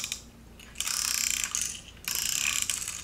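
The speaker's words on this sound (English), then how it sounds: "That's a neat noise. It's like a watch winder." A small ratcheting mechanism buzzes in two short bursts of rapid fine clicking, like winding a watch, with a brief pause between them, close and fairly quiet.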